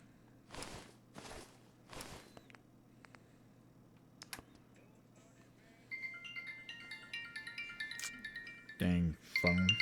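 In Fallout 4, a phone rings with a repeating electronic melodic tone that enters midway and keeps going under game sounds, following earlier footsteps and clicks.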